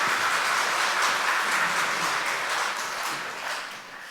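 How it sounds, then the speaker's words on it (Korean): A church congregation at a Sunday worship service applauds steadily, a dense wash of many hands clapping together that holds evenly before tapering off slightly toward the end. "하나님 경외 박수 올려드리겠습니다."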